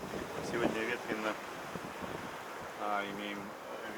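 Steady wind rushes over a yacht crossing the Atlantic under full mainsail and a small staysail, a constant broadband roar with faint sea noise, while a voice speaks over it.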